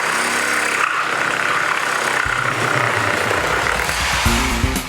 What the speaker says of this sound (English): All right, now we have the old Sawzall.